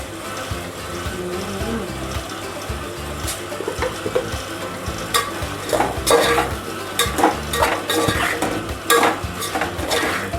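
Sambar being stirred in a pot with a spoon, giving repeated scraping and clinking strokes against the metal over a soft simmering sizzle, close and fairly loud with no talk.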